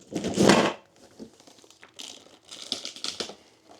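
Cardboard packaging and plastic wrap of a Young Electric two-bike hitch e-bike rack box crinkle and rustle loudly as it is opened, in uneven bursts of crumpling close by.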